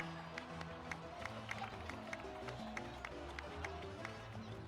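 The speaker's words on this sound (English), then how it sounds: "please give another round of applause for them" Crowd applause with scattered clapping and cheering that keeps going over steady background music, in the video game Genshin Impact.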